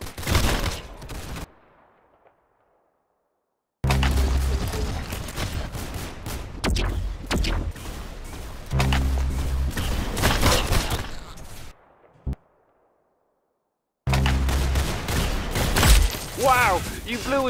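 Gunfire in the Roblox Arsenal shooter game, loud rapid bursts of shots in several stretches broken by silent gaps, mixed with game sounds and a person talking over it.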